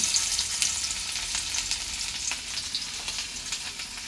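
A piece of fish frying in hot oil for a home-cooked meal, giving a steady, close sizzle and crackle with small pops throughout, no voices.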